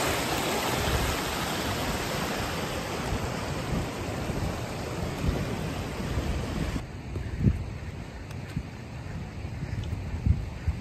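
A river in the Kashmir Himalaya near upper Simchang Lake rushes steadily as people cross it, a loud broadband roar that drops to a quieter, thinner flow partway through with occasional knocks.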